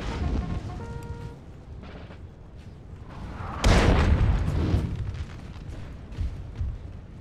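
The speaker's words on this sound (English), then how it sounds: "The artillery can hold fire" Artillery fire on a Napoleonic battlefield in the video game Napoleon: Total War: a heavy booming blast rolls out midway, following quieter battle ambience and faint horn-like tones.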